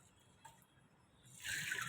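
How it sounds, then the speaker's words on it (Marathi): Water is poured into a pressure cooker holding rinsed toor dal lentils. A soft, bright rush of pouring starts suddenly partway through and continues to the end, following near-silence. "1 ग्लासभर पाणी घालून ही डाळ कुकरमध्ये घालून"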